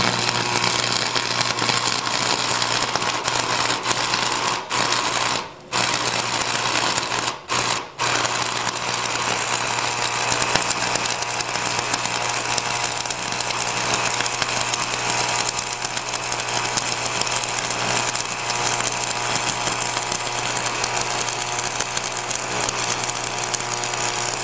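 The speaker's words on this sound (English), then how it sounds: "Once the tip turns red hot, it starts to arc easily." Stick arc welding with a red-hot electrode tip, giving a continuous loud buzzing crackle with a steady hum, briefly dropping out a few times as the arc breaks and restarts, with no talking.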